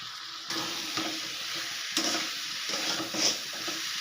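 Boiled potatoes and fried soybeans are stirred into sizzling spice paste in a pan for an egg, potato and soybean curry, with a steady fry hiss and repeated scraping strokes of a spoon, close and alone.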